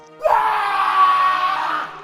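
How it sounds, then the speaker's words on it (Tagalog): A loud, sustained scream of painful defeat rings out for nearly two seconds, a single drawn-out wailing cry that rises sharply and then fades, coming from an animated legend's warrior Mudre. "Ang malakas na sigaw ni Mudre ay tila sigaw ng masakit na pagkatalo"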